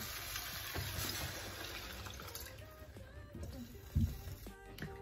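Water pours steadily into a pot of rinsed coral lentils, a soft continuous splashing and trickling that sounds fairly quiet and close, ending in a few louder splashes.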